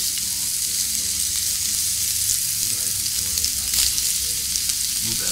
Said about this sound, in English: You can hear them sizzle.